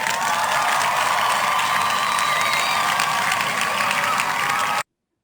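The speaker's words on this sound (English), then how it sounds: "you may applaud the two teams now" Applause and cheering from a crowd of Zoom meeting participants greeting two quiz teams, a steady, dense wash of clapping and whoops held throughout, then cutting off abruptly.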